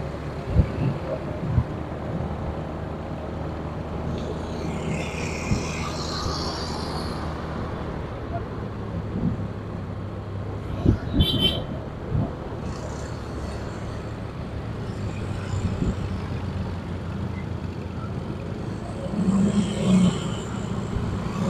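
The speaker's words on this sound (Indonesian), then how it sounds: "Ini macet. Kita di jalan di Pasar Pak Baing-Baing." A mid-afternoon traffic jam on a market street in Makassar, Indonesia, fills the air with a continuous low rumble of idling cars, buses and motorbikes. Engines rev now and then and wind buffets the microphone.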